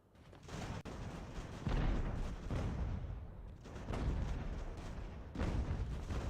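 Artillery fire in a Revolutionary War battle game, heavy booming cannon volleys rolling one after another in a dense, continuous barrage, loud and sustained with no voices.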